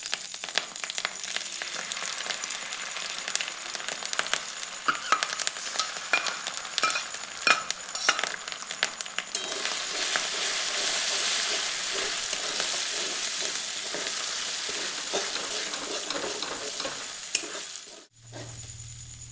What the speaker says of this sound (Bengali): এখানে দিচ্ছি কাজু আর চারমগজ বাটা